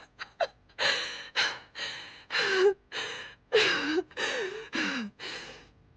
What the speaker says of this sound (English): All that breathing's not helping.